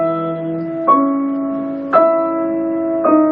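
Piano playing Debussy's The Sunken Cathedral, three struck chords at slow intervals with the tied E re-struck, each ringing and sustaining into the next, fairly loud and close.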